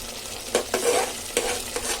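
Tomato paste and spices fry in a pan for a Tamil mochai puli kulambu, under a soft, steady sizzle broken by several quick scraping stirs from a spatula, heard close up without voices.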